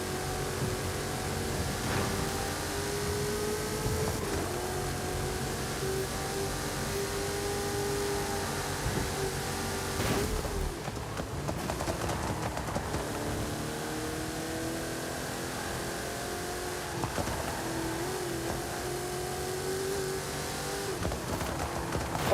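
Knight Rider car in Forza Horizon 5 driving hard, its engine droning and revving with shifting pitch, a sharp dip and surge midway and tires squealing, continuous and close with no voices.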